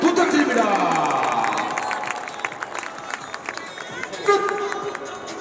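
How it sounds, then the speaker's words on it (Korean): Football stadium crowd at halftime applauding and cheering during a PK match event, a broad distant roar that fades under an announcer's amplified voice. "우리의 박원의 전사들께도 응원의 박수를 부탁드립니다"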